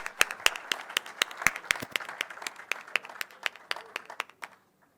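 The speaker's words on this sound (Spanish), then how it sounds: "Recibimos a Andrés Cajiano con un fuerte aplauso." A small conference audience in a YPF hall claps in sharp, distinct slaps that thin out and stop abruptly, leaving silence.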